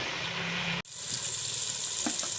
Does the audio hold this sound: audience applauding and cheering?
no